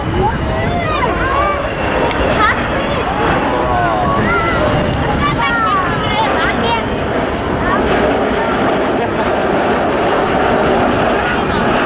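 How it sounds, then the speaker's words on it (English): A fixed-wing aircraft on approach to land with gear and flaps down at an airshow in Scotland, its engine roar steady and loud throughout, with crowd chatter and a voice over a public address mixed in. "This configuration is typical of an aircraft getting ready to land."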